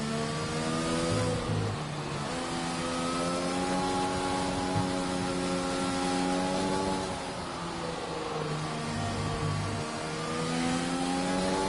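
A BWT race car in a racing video game at the Japan round starts its lap with a loud, continuous engine whine, its pitch climbing through gear changes and settling again, sustained and close throughout.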